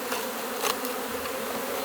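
Honeybees swarm in the air over an open hive during a spring inspection, a dense, steady buzz filling the space, loud and close with no talk.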